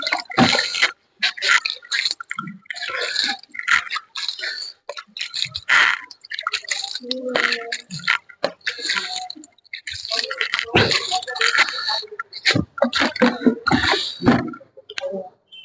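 Water splashing and dripping from watering potted plants on a rooftop, irregular close trickles and spatters starting and stopping in uneven bursts.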